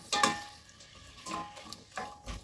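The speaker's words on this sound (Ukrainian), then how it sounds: "Перемішую і смажу приблизно 3 хвилинки" Chopped vegetables, kohlrabi among them, are stirred in a frying pan, with a few distinct scrapes and clinks of a utensil against the pan over a soft sizzle.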